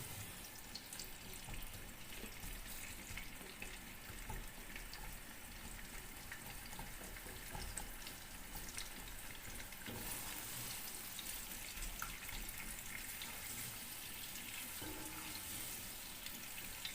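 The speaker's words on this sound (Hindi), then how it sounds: "तो मैं इसमें जो है वो बीफ ऐड कर दूंगी" Beef added to frying onions sizzles as a dense, steady hiss and crackle, close and continuous, with a slight surge partway through and no voices.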